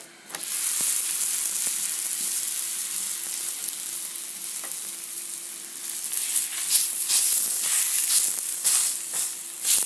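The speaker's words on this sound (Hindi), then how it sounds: "और इसके ऊपर अब मैं दोबारा ऑयल लगाऊंगी। इसको मैं अब पलट दूंगी।" Maize flour roti sizzling in oil on a griddle after flipping, a steady bright hiss that fills the whole stretch, with faint crackles and pops rising toward the end and no voice over it.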